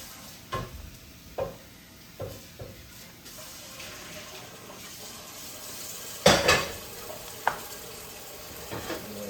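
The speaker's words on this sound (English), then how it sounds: "Rinse the pots out real quick." Cooking pots rinsed in a kitchen sink: repeated clanks and knocks of metal pots against the basin with a louder rattling clatter midway, over faint running water.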